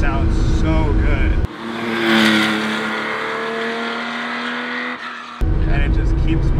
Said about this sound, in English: the engine when it revs up just sounds so good